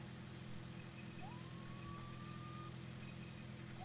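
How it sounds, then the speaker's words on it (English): A police siren in the Brickrigs video game gives one faint rising wail. It sits behind a steady, droning vehicle engine rumble. "I hear police sirens."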